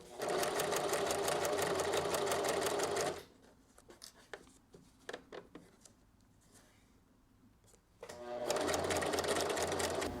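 A sewing machine runs steadily while stitching the curved front lining of a bolero jacket, then pauses for a few seconds of light handling noise before running again.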